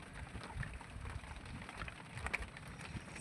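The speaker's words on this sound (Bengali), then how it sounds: "বৃষ্টির জন্য বাইরে বেরোতে পারছি না তাহলে ফোনটাই ভিজে যাবে" Rain falls steadily in the Sundarbans, a soft, diffuse patter heard from shelter, fairly faint and continuous, with occasional louder drops and no talking.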